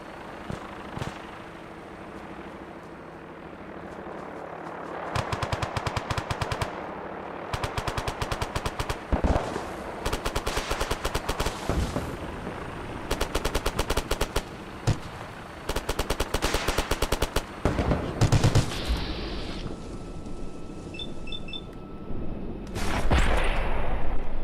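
Gunfire in Fallout 4 crackles in rapid automatic bursts separated by brief pauses, loud and close, over a low rumbling game ambience with occasional heavier blasts near the end.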